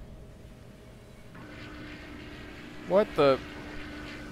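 A plane's engine approaches in the submarine game Silent Hunter IV as a low, steady drone rising gradually, with a man's short exclamation over it.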